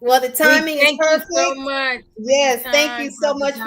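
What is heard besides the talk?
No distinct noise like a dog, phone or traffic.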